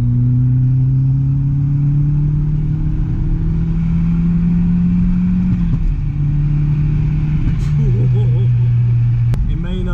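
An Audi S3 1.8T accelerates on the road from inside the cabin, its engine drone rising steadily through a gear, easing briefly at a shift, then climbing again, loud and continuous.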